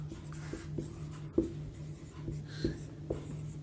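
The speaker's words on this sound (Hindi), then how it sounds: "यहाँ पे हम लिख देते हैं" Chalk or marker writing on a board during a Hindi-language Class 12 physics lesson on capacitors, heard as a series of scratchy, tapping strokes at a steady pace, close and fairly quiet over a low room hum.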